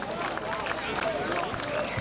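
Dense crowd applause for a scouts' and firefighters' wind orchestra at an autumn brass-band festival, a continuous wash of clapping with some crowd noise and voices mixed in.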